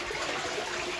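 A toilet in a Japanese bathroom flushes with a steady, loud rush of water filling the whole short moment, close by and with no talking.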